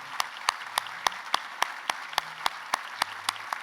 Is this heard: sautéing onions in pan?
no